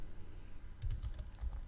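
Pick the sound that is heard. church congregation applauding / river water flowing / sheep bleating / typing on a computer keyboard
typing on a computer keyboard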